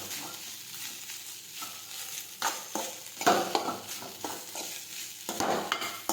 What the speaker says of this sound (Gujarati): હવે આપણે આ રીતે સાતળતા જઈશું